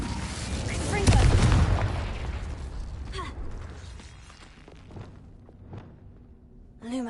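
Confringo explosive spell cast in Hogwarts Legacy, a loud burst with rumbling boom that trails off, followed by scattered softer game sounds and a short swell near the end.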